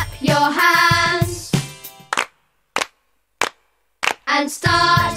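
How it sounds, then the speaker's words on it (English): Four sharp, evenly spaced hand claps ring out alone in silence, set between loud bursts of music in an English-language classroom counting song. "Clap your hands"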